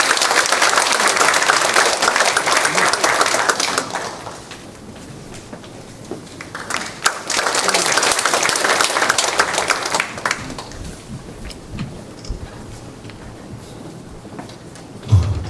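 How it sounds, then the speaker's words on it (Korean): A church assembly audience applauds to welcome a vice-moderator candidate at a presbyterian general assembly election forum, a loud burst of clapping that fades, swells again, then thins out into scattered claps. "우리 큰 박수로 모시겠습니다"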